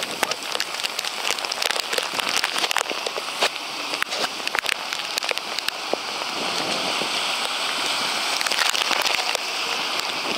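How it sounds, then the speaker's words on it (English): A heavy rainstorm in the Bronx pours down in a dense, steady roar, with close drops pattering sharply on surfaces throughout. "Major precipitation right now"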